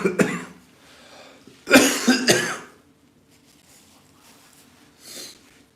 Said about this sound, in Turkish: Bu öksürük de beni öldürecek.